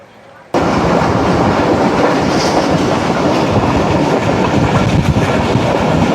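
Pak Business Express train rushing past at speed near Pakistani railway stations, a sudden loud roar of wheels and clattering cars that stays dense and close throughout.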